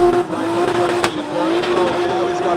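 A Nissan S15 drift car at speed with left-foot braking as it slows into the inner zone, a steady loud engine drone and tire noise running throughout, with a sharp transient near the middle.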